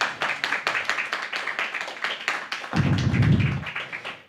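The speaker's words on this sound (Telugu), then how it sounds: "దైవ సేవకులకు చప్పట్లు కొట్టి మహిమపడదాం ఒకసారి" A congregation at a Pentecostal prayer hall in Doha claps for its ministers, a short burst of applause that swells near the end after a stretch of rhythmic tapping and speech.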